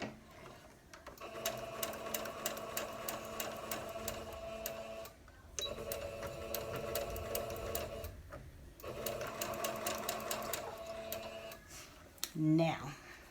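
A sewing machine stitches fabric for a Cathedral windows quilt block in several rapid, rhythmic runs separated by short pauses, with a back tack, close and fairly loud, followed by a brief voice near the end.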